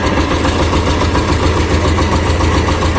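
A T-16 tractor engine, running just after a fuel filter replacement, holds a loud, steady, rumbling mechanical drone with a fast pulsing rhythm and no voices.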